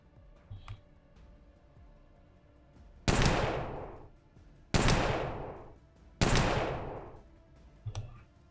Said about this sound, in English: Some of the guns really sound beefy.